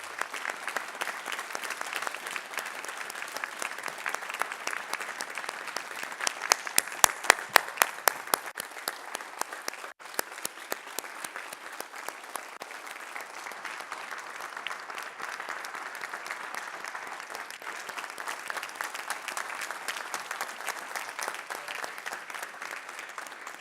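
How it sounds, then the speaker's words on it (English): Sustained audience applause at the Cross and Crown Awards ceremony, steady clapping from a large crowd that swells to a louder, sharper burst midway before settling back into an even patter. "let's give Janie and Don Bowles a round of applause"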